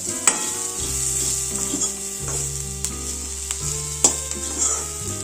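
Onions are sautéed in oil in a pan for a Konkani onion amti, giving a steady close sizzle and hiss with occasional scraping stirs of a spoon, loud and without talk.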